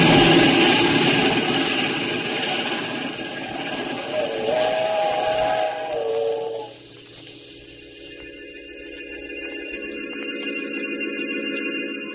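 A steam train rumbles past loudly as its whistle blows in long sustained tones, then the noise recedes and a steady chord-like whistle lingers.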